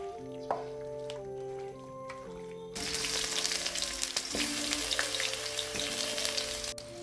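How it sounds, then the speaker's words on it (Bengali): Potato pieces fry in oil in a pan. After a quieter start with a faint background tone, a steady hissing sizzle swells up and carries on with small crackles and pops, and no one speaks. "আমার আলু ভাজা প্রায় অলমোস্ট হয়ে এসছে"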